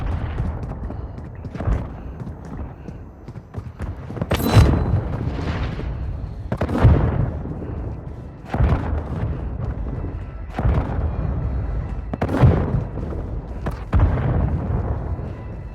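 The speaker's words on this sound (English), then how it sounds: "Hostile mortar strike incoming." Mortar strike explosions in Warzone Mobile battle royale, a series of deep booming blasts landing every couple of seconds, each with a rumbling tail, over a steady background of low game noise.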